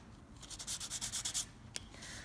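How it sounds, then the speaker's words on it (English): Sandpaper scrubbing copper, magnesium and iron metal strips in a chemical battery lab, a quiet run of about eight quick rhythmic rasping strokes, then a single sharp scrape and a softer final rub. "you want to be sure to dry these off and scrub them with sandpaper"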